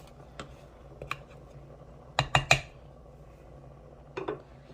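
A spoon stirs Japanese curry chicken in broth inside an Instant Pot, giving a few sharp metallic clinks and scrapes against the inner pot, with a tight cluster in the middle and quiet gaps between.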